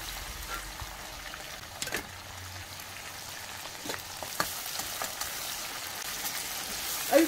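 Onions and tomatoes fry in oil for a pumpkin curry, giving a steady soft sizzle throughout with a few brief clinks of stirring, heard close up and alone.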